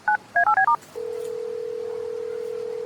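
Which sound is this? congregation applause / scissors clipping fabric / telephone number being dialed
telephone number being dialed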